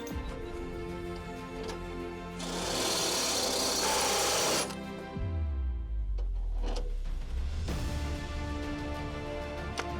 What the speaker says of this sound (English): we'll use one of these, which is a step bit. So we'll drill that out